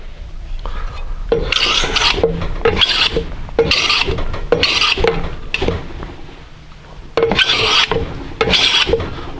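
Rosewood filed by hand while held in a fixture for miniature parts: a series of about seven loud, rhythmic rasping strokes, each a harsh scratchy burst with short pauses between, close up and with no talking.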